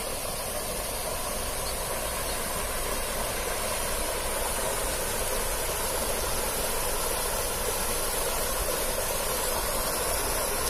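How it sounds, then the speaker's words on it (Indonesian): River water flows over rocks in a constant, unbroken rushing wash that stays even and full throughout, with no other sounds standing out. "cuma ada bebatuan dan air sungai yang mengalir"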